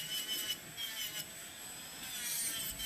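Electric nail file (e-file) filing down a nail during prep, a steady high-pitched grinding hiss with slight pulses, close and continuous, no talking.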